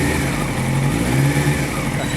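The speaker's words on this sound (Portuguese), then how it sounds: "Mais uma aceleradinha." A 2000 Honda CBR 929 motorcycle engine, fitted with a repaired water pump, revs loudly and close up in one sustained steady roar with a strong low rumble, and no talking is heard.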